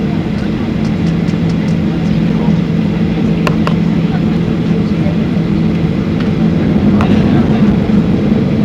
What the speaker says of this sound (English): Those are the engines.